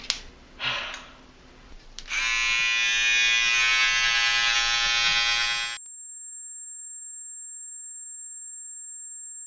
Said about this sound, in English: I'm about to shave.